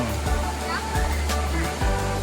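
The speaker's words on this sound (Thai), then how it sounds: "นี่ขึ้นไปเป็นชั้นๆน้ำตก" The tiered Chan Ta Then waterfall near Bang Phra, with water from two streams tumbling down rock steps, heard as a loud, continuous rushing roar up close, with voices present over it.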